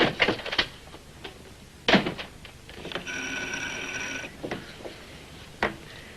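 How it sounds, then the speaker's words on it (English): An old telephone is picked up and used to call the operator: handling clatters and clicks, then a sustained buzzing ring tone for about a second and a half, followed by more clunks of the handset, with no speech. "I'm just going down to phone George."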